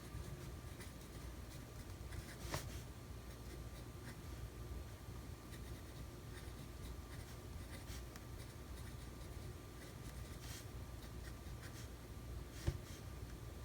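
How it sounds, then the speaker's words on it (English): A pen writing in an Amazon Basics ring planner gives faint, soft scratching and occasional light taps against a low, steady background hum, with no voices. "Like how I go in and I decorate and then I fill it in with writing?"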